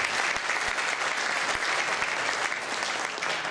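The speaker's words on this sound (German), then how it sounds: "Ja, ich kriege einen extra Applaus." An audience at a brass band concert given with a town music association claps in a steady, dense burst of applause that fills the whole stretch, with no talking over it.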